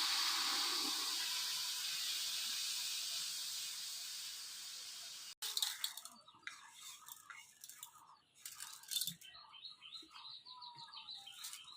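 Split lentils (biulir dal) being rinsed in water in a village Bengali kitchen: a steady rushing pour for several seconds, then close irregular sloshing, swishing and dripping as the grains are stirred by hand.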